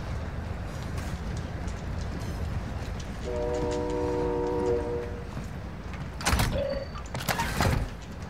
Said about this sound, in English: I'm absolutely getting on this train and looting it